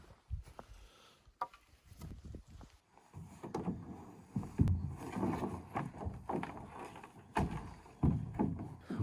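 A canoe being readied for paddling on a canyon trip, with scattered knocks, thumps and scraping of gear and hull, close and fairly quiet, without speech.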